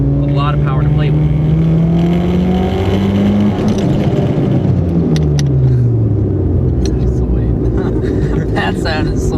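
Nissan Sentra SE-R Spec V engine revving hard and accelerating, rising in pitch, then dropping through a gear shift and climbing again, loud and close, with a voice talking over it.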